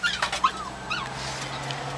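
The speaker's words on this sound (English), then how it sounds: "Dog's a stressed little dog." A small dog whimpers in a few short, high, rising whines near the start, close by, and a fainter whine follows against a steady low hum on a cold, snowy evening.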